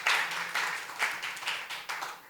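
An audience at a community gathering claps together in a brief, fairly close burst of applause with a loose rhythmic pulse and no voices.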